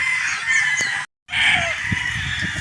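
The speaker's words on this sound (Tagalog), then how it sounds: "pipili na po tayo ng mga tatlong pulit uh, para sa ating buyer" Boston Roundhead gamefowl chickens, pullets among them, cluck and call loudly and close by, with a crow-like call breaking off at a short silent gap.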